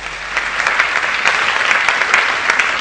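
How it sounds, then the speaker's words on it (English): Steady, dense applause from an audience at opening remarks, a continuous wash of many hands clapping close up, with no talk over it. "you could just show your appreciation with some applause"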